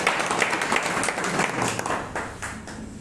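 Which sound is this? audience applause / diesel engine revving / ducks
audience applause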